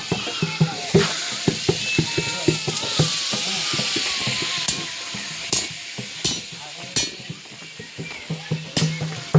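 Food cooking for a temple offering, with metal utensils scraping and clattering rhythmically against a large pot as it is stirred over a sizzling fire, close and busy, with faint voices in the background.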